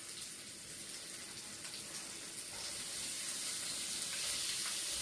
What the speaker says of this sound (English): So we're gonna add our shrimp.